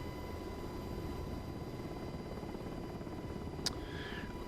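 Black Hawk helicopter flying in the DCS combat flight simulator over Afghanistan, a steady, even rotor and engine drone throughout with a single sharp click near the end.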